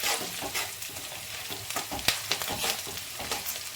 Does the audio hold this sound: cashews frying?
yes